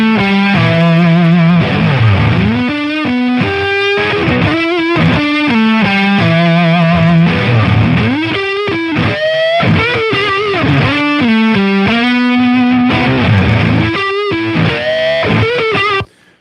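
An electric guitar runs through the high-gain Drive or Die preset of the Tonex Max collection, the same amp and cab as before. It plays heavily distorted, saturated chords and riffs continuously for about sixteen seconds, loud and up front, with no talking.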